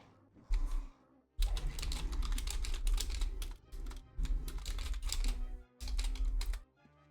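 Computer keyboard typing comes in quick, close bursts of clacking keys, with short pauses between the runs.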